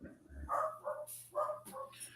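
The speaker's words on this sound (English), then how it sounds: "And I'm also sorry about my dog in the background." A dog barks a few times in the background of an indoor room, short sharp yips in quick succession, fairly faint and with no talking over them.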